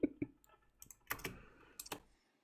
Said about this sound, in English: You might be hearing my husband type.